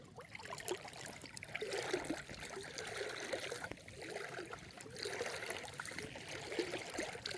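Creek water trickling steadily over rocks, a soft continuous babble with gentle swells, fairly faint and close, without any talking.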